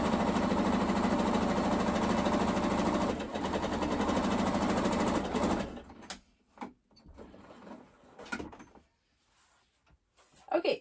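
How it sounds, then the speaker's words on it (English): A sewing machine runs a straight seam across a pleated fabric face mask, a steady close mechanical hum for several seconds that then stops, leaving quieter handling clicks and rustles. "sew a simple straight seam across to form this one into the loop"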